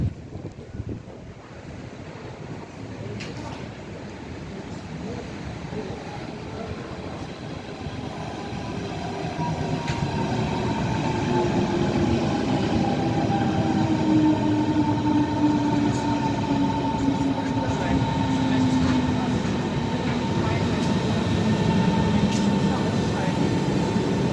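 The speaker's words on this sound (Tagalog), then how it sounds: "Ayan na guys, ang train." An S-Bahn train pulls into a Berlin station, its rumble building with rising and falling wheel and brake squeals, mixed with wind buffeting the microphone and voices in the background.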